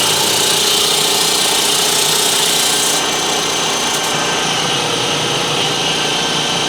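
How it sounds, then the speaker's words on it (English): A workshop air compressor runs with a steady, loud mechanical hum and hiss that continues without pause, with no talking. "I'll quickly spark up my compressor down here and hopefully it won't leak."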